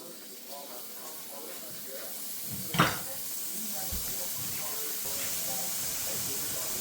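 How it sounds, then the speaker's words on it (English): Dove meat sizzling in bacon grease in a skillet, a steady hiss throughout with a brief louder burst partway through and faint background noise. "So I'm going to put my dove meat over in my pot, or my skillet now."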